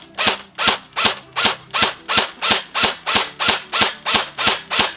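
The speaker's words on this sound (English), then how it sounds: "Then we go over with the AKM. Put the magazine in there, put it on semi-automatic, rack the bolt, here we go" An AKM airsoft rifle fires on semi-automatic: about a dozen sharp, evenly spaced snaps in quick steady succession, close and clear, with no talking.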